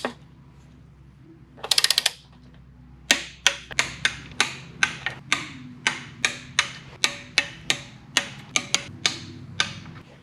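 A torque wrench ratchets on a bolt during a Teraflex Extreme short slip-yoke-eliminator install on a Jeep Wrangler TJ. A fast burst of clicks is followed by a slow, even run of loud, close, single ratchet clicks.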